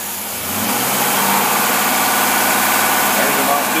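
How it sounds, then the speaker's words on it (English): An engine fitted with a Carter two-barrel carburetor revs up from idle to a loud, sustained roar, heard close, with a voice speaking over it. "Now, we're going to rev it up a couple times."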